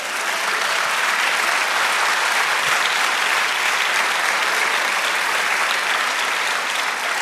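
Congregation applause in a Spanish-language church service, a dense, sustained roar of clapping from many people, loud and steady for several seconds without interruption.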